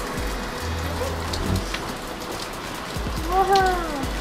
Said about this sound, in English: Yeah, sure enough, there's hail.